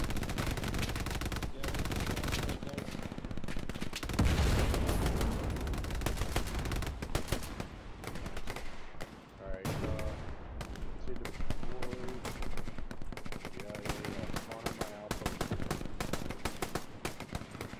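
Continuous machine-gun and rifle fire in a D-Day World War II shooter, dense and loud throughout, with rapid rattling bursts layered under occasional spoken voices.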